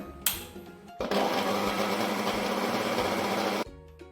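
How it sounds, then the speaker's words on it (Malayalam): A mixer grinder runs steadily for about two and a half seconds while grinding coconut into a chammanthi chutney, loud and close, starting abruptly and cutting off just as suddenly, with brief clunks before and after. "നാളികേരം ചേർത്ത് നമുക്കിനി അരയ്ക്കാം"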